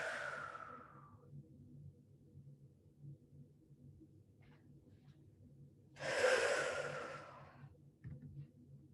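Slow, soft breaths during a calm grounding exercise, an exhale at the start and a deeper, louder breath later, heard close in an otherwise quiet room.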